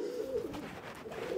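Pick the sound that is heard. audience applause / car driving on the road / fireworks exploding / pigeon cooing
pigeon cooing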